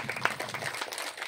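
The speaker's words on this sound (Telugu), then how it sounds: "గట్టిగా క్లాప్ చేద్దాం." Audience applause at a Pyramid Seva Dal activity meeting in Tallagudem village: a steady, dense patter of many hands clapping, fairly close, carrying on without pause for the whole stretch.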